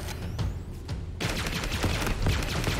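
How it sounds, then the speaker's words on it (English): Rapid weapon fire from a plasma pistol in the Halo Infinite video game, a dense burst of shots that starts partway through and keeps going loudly over busy combat noise. "Killed him with a plasma pistol."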